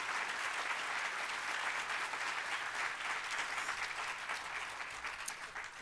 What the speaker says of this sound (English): give her a round of applause for what she's done